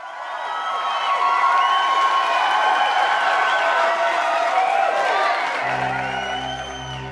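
A crowd cheers steadily and loudly for a candidate at an East Wales by-election, a dense continuous roar that holds throughout before a low droning tone enters near the end.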